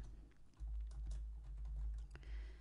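Computer keyboard typing while entering text in a spreadsheet: a quick run of soft, faint key clicks over a low background hum, with no voices.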